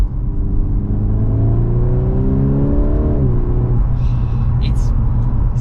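An Audi RS3 engine rumbles and burbles close by, its tone rising and then dropping back to a steady low drone, with a few faint higher clicks toward the end.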